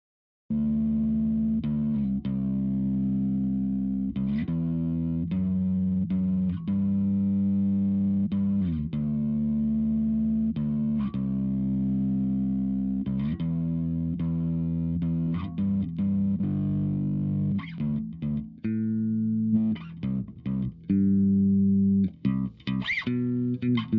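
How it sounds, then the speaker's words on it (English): Bass guitar running through an Ampeg amp simulator on a driven bass preset, loud gritty sustained notes with a steady dense tone, ending in a few quicker plucked notes, no voices. "Yeah, we want that driven sound."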